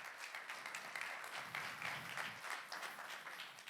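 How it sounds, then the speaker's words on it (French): A church congregation applauds its cleaning volunteers, a fairly faint, crackling patter of many hands clapping with a slightly uneven rhythm, heard without talk. "j'aimerais qu'on applaudisse tous les gens qui font le ménage, qui entretiennent les peintures"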